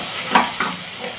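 Spoon scraping and stirring vegetables with masala in a hot iron pan, soft sizzle underneath, a couple of brief scrapes standing out over steady frying hiss.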